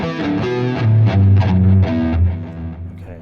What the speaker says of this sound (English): So here we have our virtual guitar amp.